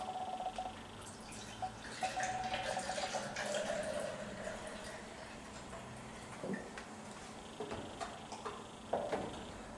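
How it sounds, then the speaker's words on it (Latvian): Milk is poured into a Tupperware milk frother jug for cappuccino, a faint, steady liquid trickle with light drips, heard alone over about ten seconds. "Ņemam Tupperware putu taisītāju, pievienojam, ieliejam iekšā pienu."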